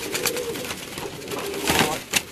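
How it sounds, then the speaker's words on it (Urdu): Kasuri pigeons of an old bloodline coo in a loft, soft repeated throaty calls in short bursts, fairly close and steady with a few louder swells. "پرانی نسل کا کسوری کبوتر ہے کسوری کبوتر"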